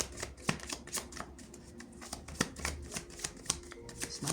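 Tarot cards are shuffled and drawn by hand, giving soft riffling flutters and crisp slaps in quick bursts that sound close and fairly quiet.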